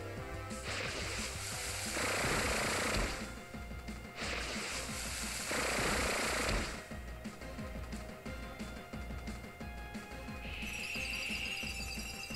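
Gear Grind attack from Pokémon Sun, heard as two loud grinding, crunching bursts of metallic noise, each lasting about two seconds, followed by a quieter rumbling tail and a high chime near the end, with no voices.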